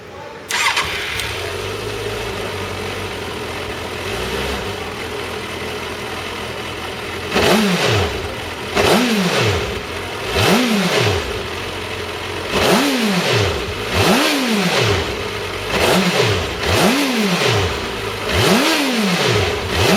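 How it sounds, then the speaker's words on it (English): A motorcycle engine cranks and catches, idles briefly, then revs in a series of sharp, rising blips about every second or two, loud and close. "I'm going to start the bike up and blip it again"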